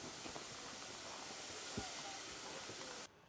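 At a steam railway gala, a steam train gives off a steady, fairly quiet hiss with faint clanks beneath it, cutting off abruptly near the end.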